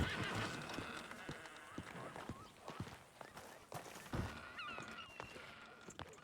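Horse in a Western roleplay video game neighs and whinnies while hooves clip-clop and thud, an irregular mix of footfalls with a couple of clear whinnies near the end, under faint background sound.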